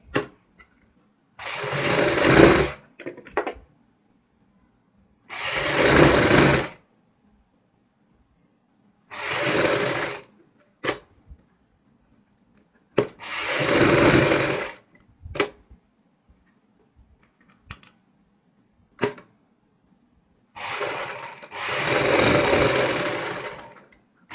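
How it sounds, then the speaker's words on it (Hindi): Sewing machine stitching a garment neckline along buckram, running in repeated short whirring bursts of a few seconds each with silent pauses between, close and clear with no voices. "ऊपर नीचे के दोनों निशान लगाते हुए बुकरम के साथ साथ सिलाई लगाएंगे"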